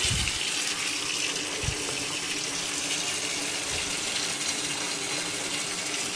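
Hot tap water runs steadily and loudly while laundry is rinsed by hand, a continuous close gush with no talking.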